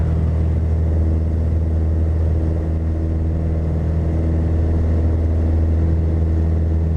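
Piper Warrior single-engine aircraft at full power during its takeoff roll on runway 21 at Raleigh Exec, heard from the cockpit as a loud, constant, even engine drone with a steady tone.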